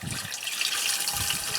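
Bleach pours from a one-gallon jug into a bucket of about three gallons of water, a short, steady splashing gush of liquid with no voices.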